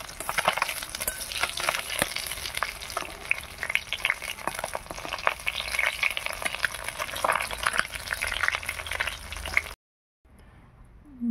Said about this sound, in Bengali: মাছ ভাজা হচ্ছে, এক পিঠ ভাজা হয়ে গেছে,